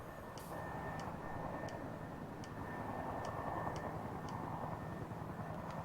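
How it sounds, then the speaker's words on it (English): A helicopter in Farming Simulator 19, set on a Washoe, Nevada farm map, drones steadily with a continuous rotor and engine hum at moderate, fairly distant level, joined by a faint repeating tick and a thin high whine. "I hear a helicopter."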